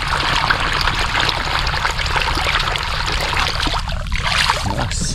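Irrigation water pours steadily into a flooded rice field, a loud, continuous rushing and gurgling wash that holds for the whole stretch without a break.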